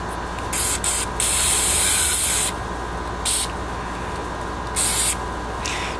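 Several bursts of aerosol spray hiss in short and longer blasts, close by, with a steady background hum between them.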